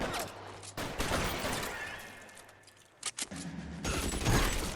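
Gunfire from the video game L.A. Noire rings out in loud bursts and sharp reports across the clip, with dense crackling volleys mixed under game noise and brief gaps.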